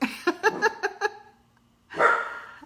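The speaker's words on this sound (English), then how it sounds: "And there's JoJo in the back barking, so sorry." A dog barks in a quick run of about six short yaps, pauses, then gives one longer, rougher bark nearby.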